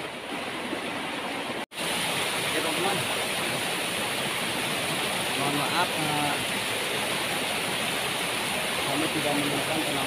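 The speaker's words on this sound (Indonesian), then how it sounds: "di tebingan air terjun ini atau curug gitu ya" A waterfall pours down a cliff face, a dense, steady rushing roar that drops out for a brief moment near the start and then continues strongly, with people talking faintly beneath it.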